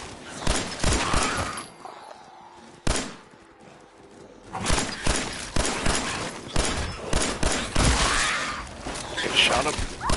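Several sharp gunshots crack out in bursts, a loud cluster early and more scattered shots later, over tense talk and shouting.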